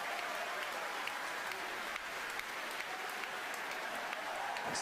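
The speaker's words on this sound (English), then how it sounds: "the cheering by all the people who work there" SpaceX staff cheering and applauding at the Falcon Heavy launch, a dense, steady wash of clapping and crowd noise that holds at an even level throughout.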